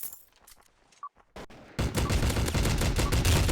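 Rapid gunfire in the online first-person shooter Block Gun: FPS PvP War, with a few sparse shots at the start, then a sudden loud, sustained burst of automatic fire that runs close and dense to the end.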